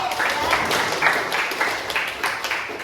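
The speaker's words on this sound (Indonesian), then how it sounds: "tepuk tangan dulu buat Ari." Students applauding in a classroom, a brief burst of clapping at moderate volume with a rhythmic, patterned beat.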